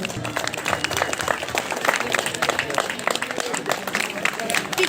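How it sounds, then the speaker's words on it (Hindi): Audience clapping for prize winners at an inter-district Ramlila competition, a dense, steady patter of many hands that runs through the whole stretch at close range. "जोरदार तालियां बजाइए"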